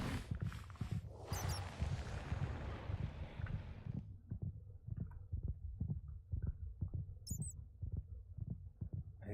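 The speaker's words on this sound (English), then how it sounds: "I think that's supposed to be his, like, heartbeat or something." Heartbeat of a creature in the video game Minecraft, a rapid series of soft, low thumps pulsing steadily, first under a burst of rushing noise, then alone and clearer.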